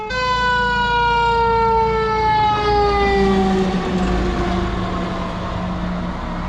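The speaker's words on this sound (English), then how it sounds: "There's a fire truck coming." A fire truck siren wails loudly in a steady rising and falling sweep as the vehicle passes close by, its engine rumbling underneath, with no talking.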